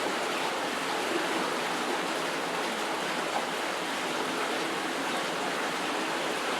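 Water rushes steadily through the Scots Float Sluice gates, a loud, continuous broadband roar that holds unchanged from start to finish with no voices.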